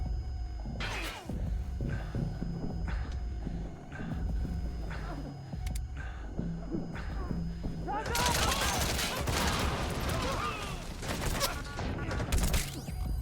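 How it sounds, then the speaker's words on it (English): Shotgun fire in a video game. Heavy blasts and crashes come in quick bursts, rising into dense overlapping gunfire that fills the back half of the clip. "Instant shotgun stun lock."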